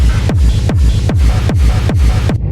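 Distorted Schranz techno kick drum with pitch-shifter noise, six heavy pounding kicks at a fast even tempo, each with a downward pitch sweep and gritty noisy tail, loud and alone until it cuts out.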